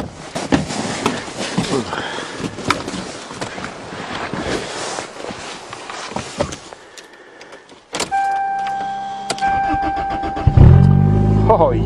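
1992 car engine cold-started on a December morning: a stretch of rustling and clunks gives way to a brief starter whir, then the engine catches and settles into a loud, steady idle with a rising rev near the end.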